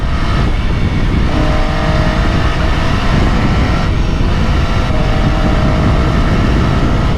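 A 2022 MV Agusta F3 800RR middleweight sportbike engine roars loud and steady while riding, a constant close drone with wind rush.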